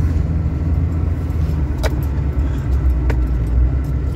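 A vehicle rolls slowly through phase 3 of Treasure Lake RV Resort in Branson, Missouri, with a steady low engine and road rumble throughout and two brief jingling clicks, like keys, partway through.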